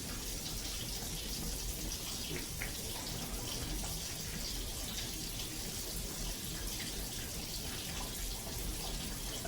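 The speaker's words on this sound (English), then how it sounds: "I can just use tap water for this." Tap water running steadily from a kitchen faucet as bread dough is prepared, a continuous close, moderately quiet splashing hiss with no talking.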